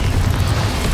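A short, heavy burst from the Confringo fire spell in Hogwarts Legacy, a dense low rumbling blast lasting about a second.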